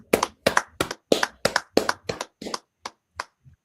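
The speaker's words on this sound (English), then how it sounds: "Alright, clap it up." A single person's hands clap about a dozen times in a quick, slightly uneven rhythm, close and crisp, slowing and softening toward the end with a few sparser final claps.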